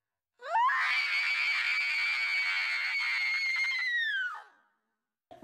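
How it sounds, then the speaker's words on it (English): A single sustained, high-pitched scream from a woman, loud and close, holding steady for nearly four seconds before breaking off and fading. "I can scream for you."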